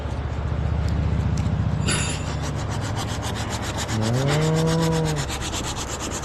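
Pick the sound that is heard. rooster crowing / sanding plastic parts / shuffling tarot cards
sanding plastic parts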